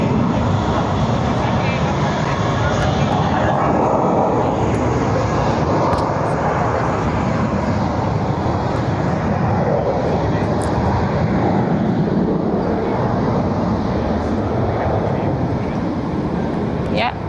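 A Vueling airliner departs Barcelona airport, bound for Amsterdam, with a steady broadband jet engine roar that holds loud and continuous throughout, with no break.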